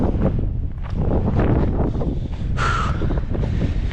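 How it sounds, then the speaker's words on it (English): Strong gusting wind on a mountain trail on Mount Superior near Cardiff Pass, roaring and buffeting the microphone steadily and loudly throughout, with no talk. "And the wind is getting powerful."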